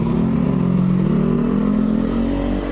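A motor vehicle pulls away along a busy Bangkok night-market street, its engine a close, steady droning rumble with light mechanical clatter, easing only slightly at the very end.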